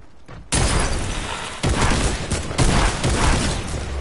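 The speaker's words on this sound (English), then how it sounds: "I sprayed him with my AK." AK rifle fire in a video game: loud, close sustained sprays of automatic gunfire in several bursts, with impacts and shattering mixed in.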